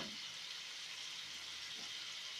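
Chicken pieces and crisp vegetables fry together in a pan, producing a dense, even sizzle that holds steady throughout the short stretch with no talking.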